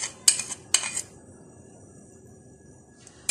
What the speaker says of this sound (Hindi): यहां एक बड़े बाउल के अंदर सबसे पहले जो हमारे पास मक्खन है, इस मक्खन को बीट कर लेते हैं।